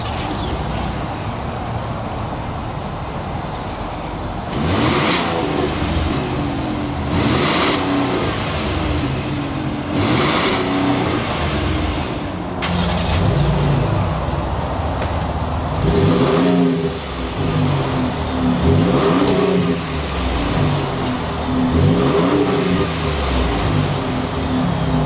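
Two 2019 Ford trucks, a Raptor and an F-150 Limited, with engines starting and revving in repeated bursts, loud and close, each rise in engine pitch falling back to a steady idle.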